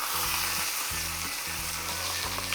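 A whole head of lettuce fries in a frying pan, a steady close sizzling hiss over a low rhythmic background hum, with no talking.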